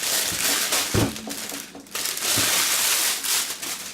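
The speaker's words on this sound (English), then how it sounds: "making all that noise of the wrapping there" Crinkly, rustling crunches of plastic packaging from a portable AC/DC air compressor being handled and torn open up close, a continuous crackle with a few sharper crumples.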